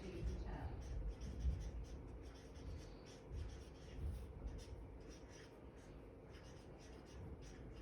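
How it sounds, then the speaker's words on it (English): Marker or chalk writing on a classroom board, a steady scratchy rubbing in short strokes that runs throughout at close range, with some low background rumble. "I'm going to write on my board the ones that we're going to focus on today."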